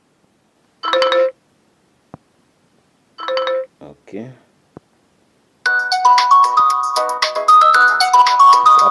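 Blackview Tab 12 tablet ringtone previews: after two short bursts of talk, a bright melodic phone ring starts and plays on loudly and steadily.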